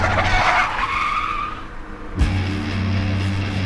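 A car skids with a loud tire screech, the squeal rising and then cut by a sharp thump, followed by a steady engine hum; no one speaks.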